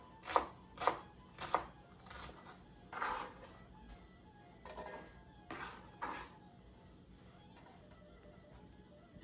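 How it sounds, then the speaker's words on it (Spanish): A knife chops a garlic clove finely on a board for vegan pumpkin soup, with several sharp, close strikes early on, then softer, sparser cuts fading out. "El diente de ajo lo vamos a picar lo más pequeño posible."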